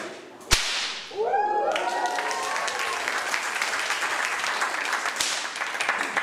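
A single sharp whip crack from a stage whip trick snaps once near the start, followed by a burst of audience applause and cheering that carries on, with a second fainter crack later.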